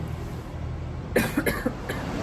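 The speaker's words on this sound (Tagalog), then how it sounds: "Ayan, inuubo na naman ako." A short burst of several dry coughs close to the mic, following a quiet stretch of room noise.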